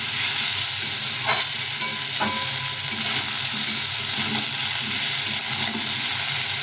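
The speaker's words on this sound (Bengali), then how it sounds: "টমেটোটাকে একটু ভেজে দেবো" Diced tomatoes frying in a pan alongside cauliflower and potatoes for a fish curry, a steady close sizzle with occasional stirring scrapes, no talking.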